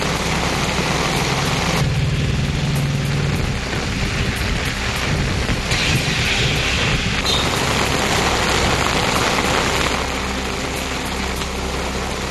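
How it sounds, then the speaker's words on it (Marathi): Heavy monsoon rain pours down in Ichalkaranji as a dense, constant roaring hiss that stays loud and unbroken throughout, with a low rumble beneath it. "इचलकरंजीत मुसळधार मोसमी पावसानं शेतीच्या कामांना वेग आलाय"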